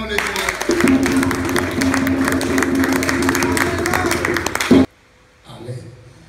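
A church congregation breaks into loud, dense applause mixed with crowd noise and a held tone. It lasts about five seconds and stops abruptly, followed by quiet and a faint voice.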